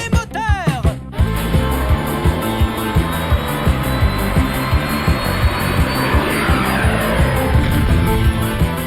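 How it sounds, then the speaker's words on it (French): Cartoon spaceship engines pushed to full power give a loud, steady roar with a rhythmic pulsing throb throughout, after a brief burst of voice at the start. "Poussez les moteurs!"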